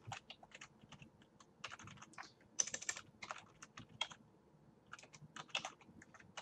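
Fingers type on a computer keyboard in quick, uneven bursts of close, crisp key clicks with short pauses between words in a quiet room.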